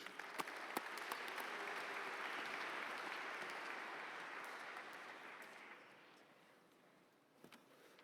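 A school assembly audience applauds to welcome speakers back to the stage, a steady wash of clapping from a fairly distant crowd that slowly tapers off toward the end.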